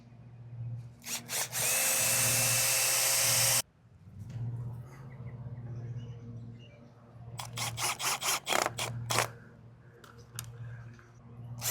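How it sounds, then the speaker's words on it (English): A power drill whirs in one long sustained burst, then several shorter bursts follow, close by and loud, with a steady low hum underneath. "Drill."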